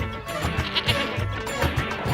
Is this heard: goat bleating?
yes